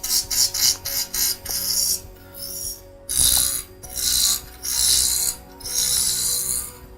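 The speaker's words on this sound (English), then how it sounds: "As I turn it down, I'm going to use my spindle roughing gouge." A small wooden spindle spun at high speed on a wood lathe while a spindle roughing gouge cuts it down, giving repeated rasping, scraping bursts, short and choppy at first, then longer sustained passes, close and loud.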